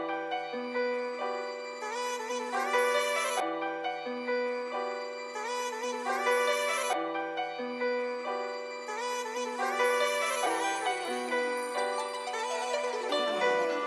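The sample, pitched up five semitones and filtered below 150 Hz, loops as a bright, thin chordal pattern that repeats about every three and a half seconds, playing alone with no talking.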